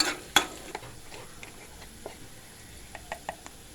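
Onions, dried red chillies and curry leaves in tempering oil give a faint sizzle, broken by a few sharp spoon clinks and stirring scrapes against the pan, with no one speaking.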